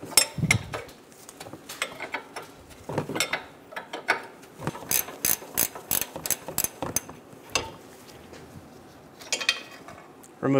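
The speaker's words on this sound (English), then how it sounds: "Using an 18mm socket, remove the bottom nut on the transmission mount." An 18mm socket ratchet loosens the bottom transmission mount nut on a 2008-2017 Buick Enclave 3.6L V6, giving close, crisp runs of rapid clicking bursts separated by short pauses.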